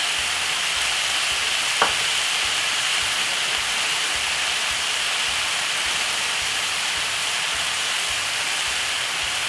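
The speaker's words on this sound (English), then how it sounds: "Brown off the meat for about put a little bit of crushed pepper." Meat browns in a pan with crushed pepper, a steady even sizzle of frying hiss running alone throughout, with one brief faint click partway in.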